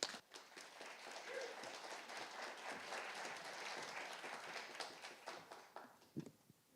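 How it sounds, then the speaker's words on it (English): Applause from an audience at an international quantum conference in Yonsei greets the Director General's opening session, a steady wash of dense clapping that thins out and fades near the end. "Please give a big round of applause."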